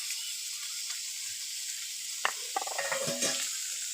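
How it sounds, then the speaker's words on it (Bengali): Small mourala fish coated in salt and turmeric hiss in hot oil, giving a continuous bright sizzle with a few crackles and spattering pops in the later part, close and alone with no voices. "মাছে লবণ হলুদ মাখিয়ে নিয়েছি এবার মাছ ভেজে নেব"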